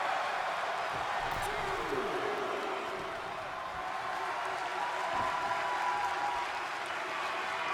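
Applause from a wrestling show audience rises as a broad crowd wash. Clapping and faint cheers sit under a commentator's voice, which talks over the noise throughout.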